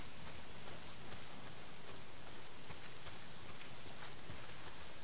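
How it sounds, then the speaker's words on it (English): Heavy rain pours down in the video game Days Gone, a dense, even hiss of drops that stays steady and loud throughout. "not if it's pissing down rain"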